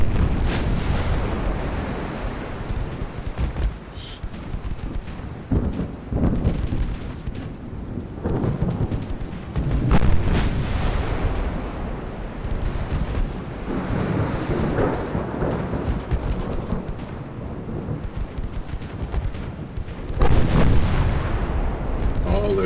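Naval gunfire from warships in the Ultimate Admiral Dreadnoughts game, rolling booms and heavy cannon blasts rumbling continuously with repeated louder salvos, loud and dense throughout with no talk.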